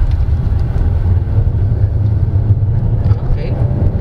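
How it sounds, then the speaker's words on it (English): A 2024 Dongfeng Aeolus Huge hybrid driving in eco mode with its engine running, giving a steady, loud low rumble of road and drivetrain noise heard from inside the cabin throughout. "we're gonna drive this starting with eco mode first, and the engine is on"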